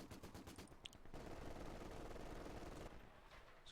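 Vickers machine gun fire in a real-time strategy battle game, a sustained dense rattle of rapid bursts holding steady for a few seconds before easing off, loud and close with no talk over it.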